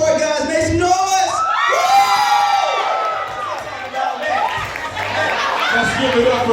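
A live crowd at a spoken word poetry awards show in Chicago cheers, whoops and shouts loudly and continuously, with excited high voices rising above the roar throughout.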